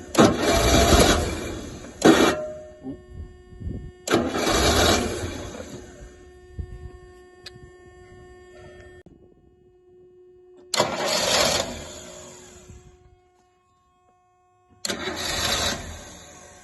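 A Rolls-Royce Silver Shadow engine cranks but will not start despite having spark, in four loud cranking bursts separated by pauses, with a quieter steady hum in between.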